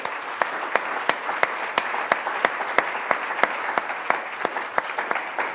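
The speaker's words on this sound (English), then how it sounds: "how about a big round of applause for our panel?" Audience applause for a virtual reality panel at a creative technology conference, a steady wash of many hands clapping with sharp individual claps standing out, sustained and fairly loud throughout without speech.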